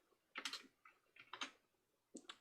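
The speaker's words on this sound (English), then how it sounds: "typing is hard." Rapid, close bursts of keystrokes on a computer keyboard come in three uneven clusters, crisp and clattering, with no voices.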